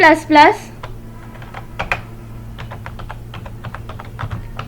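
A computer keyboard types a G++ compile command in an Ubuntu terminal: a brisk run of light, close key clicks with steady rhythm after a brief voice at the start, over a low background hum.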